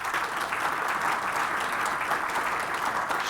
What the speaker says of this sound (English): Everybody, I want a round of applause for this lady.